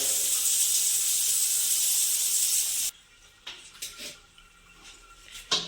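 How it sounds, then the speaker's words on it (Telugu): A bathroom health faucet spray gun blasts water in a strong, steady hiss for about three seconds, then cuts off, leaving faint knocks and drips. "ఇది హెల్త్ ఫస్ట్ గన్."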